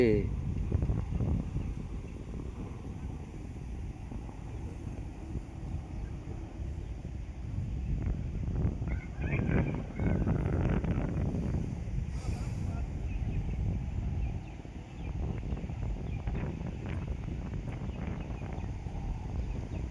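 Gusty wind blows outdoors, buffeting the microphone with a low, rumbling rush that rises and falls over twenty seconds, while a voice talks now and then underneath.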